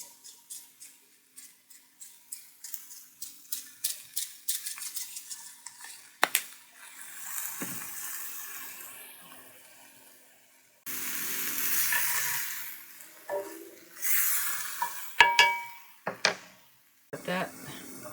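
Cauliflower mac sauce simmers in a cast iron pan, with a series of soft rhythmic clicks and taps from stirring early on, then a bubbling hiss and scraping utensil sounds, fairly quiet and close.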